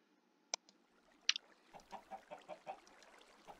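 Chickens clucking in the Minecraft video game, a few short, faint clucks in a loose rhythm after two sharp clicks, with no talk.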